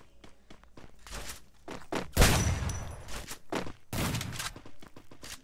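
Gunfire in a video game, a burst of loud bangs and thuds with an intense cluster in the middle, followed by scattered shots and impacts at close range.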